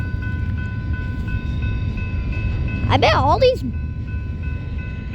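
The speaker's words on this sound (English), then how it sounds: "and there's already a train" A freight train with cargo cars rumbles past steadily at close range, its horn sounding once in a brief wavering blast partway through, while a person talks over the noise.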